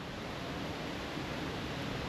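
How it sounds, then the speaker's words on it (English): River Swale near Richmond, Yorkshire, flowing past a small beach, heard as a steady, even rush of water with no other sounds over it. "So this is the River Swale."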